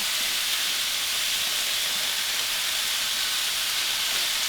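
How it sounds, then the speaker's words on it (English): Steady, loud sizzling hiss of about 1.5 pounds of ground beef frying in a hot pan, constant throughout with no talking. "start with my little ground beef. We're going to start frying this up."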